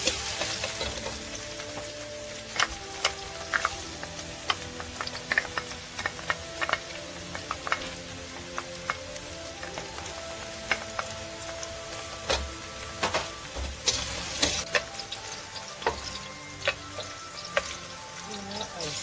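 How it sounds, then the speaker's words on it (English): Mushrooms stir-fried in a pan produce a steady sizzle throughout, with frequent clicks and scrapes of a utensil against the pan as they are tossed, close and continuous. "Now I'll stir fry the mushroom."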